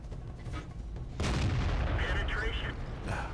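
A tank cannon fires in World of Tanks, a single heavy boom with a rumbling tail, followed by game sound effects and someone talking.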